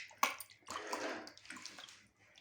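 Fish being washed by hand in vinegar water in a home kitchen for pakora, with close splashing and sloshing in a couple of bursts, then trailing off.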